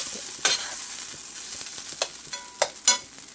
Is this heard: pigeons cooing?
no